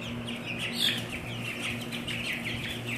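Soft, continuous chirping and murmured clucking from a group of 27-day-old Cornish Cross and Australorp chickens, steady and close, with a faint hum underneath.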